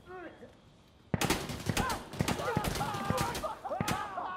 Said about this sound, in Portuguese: Tem um cara atirando de lá.